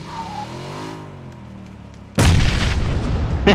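A loud, sudden explosion in PUBG bursts in after a stretch of quieter rumbling and keeps roaring on to the end.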